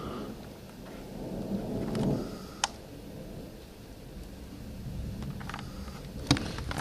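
Thunder rumbles during a lightning storm in the Catskills, New York, in low rolling swells with a couple of sharper cracks, heard outdoors over a steady rain hiss.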